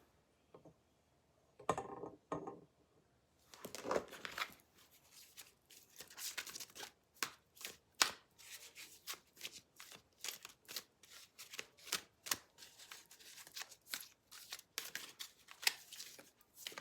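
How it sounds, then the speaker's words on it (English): Tarot cards shuffled by hand close up, a few soft slides followed by a long run of crisp, rapid riffling bursts in an uneven rhythm, quiet and with no talking. "I'm going to shuffle the cards"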